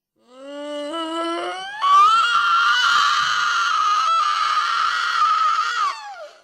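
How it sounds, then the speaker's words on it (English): A girl lets out one long, loud, piercing scream, rising in pitch and holding steady for several seconds before breaking off, close and alone, with no talk. "Her piercing screams echoed through the house"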